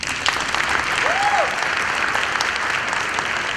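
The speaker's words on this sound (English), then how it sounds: "Clap for that." Audience applause at a university spring convocation, a steady wash of clapping from a large crowd in a hall, held for several seconds, with a brief tonal whoop rising over it.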